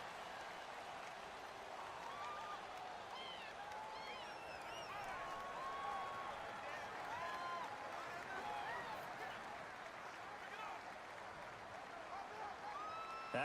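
Stadium crowd roar in Madden NFL 19 during a 49ers at Seahawks game, a constant dense wash of fans with scattered whistles and cheers rising and falling across the stretch.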